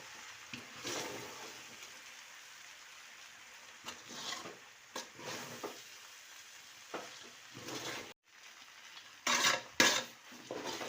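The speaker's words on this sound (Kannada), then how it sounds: "ನಾವು ಅವಲಕ್ಕಿನ ಈ ರೀತಿ ಚೆನ್ನಾಗಿ ತಿರುಗ್ತಾ ಇರಬೇಕು. ಈ ರೀತಿ ಮಡ್ಚೋದ್ರಿಂದ ಅವಲಕ್ಕಿ ಎಲ್ಲ ನೀಟಾಗಿ ಫ್ರೈ ಆಗುತ್ತೆ" Flattened rice (poha) being stirred and fried in a pan over a low flame, with a soft sizzle and scattered scraping and clattering strokes of the spoon at irregular intervals.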